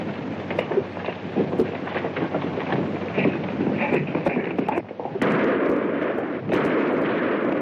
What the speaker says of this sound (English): Who fired that shot?